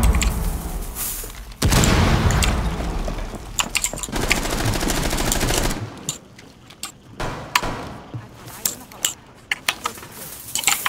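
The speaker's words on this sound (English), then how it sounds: "Oh, that's a grenade." Rainbow Six Siege match with a grenade blast and heavy automatic gunfire: a loud sustained burst of firing and explosion noise for several seconds, then scattered sharp shots and thuds, with people talking over it.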